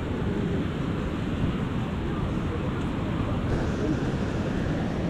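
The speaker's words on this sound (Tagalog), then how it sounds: "Medyo huminahin na yung hangin." Steady wind roars across an outdoor spot near water, a constant broadband rush buffeting the microphone throughout without a break.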